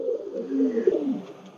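Pakistani Teddy pigeon cooing in low, rolling murmurs, close and steady throughout with a slight swell near the middle.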